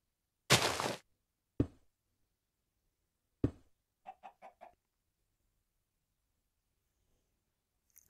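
Minecraft chickens cluck in short, separate bursts: one longer squawk, two single clucks, then a quick run of five soft clucks, all alone against silence.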